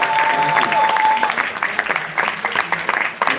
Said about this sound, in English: Would you please give a round of applause again?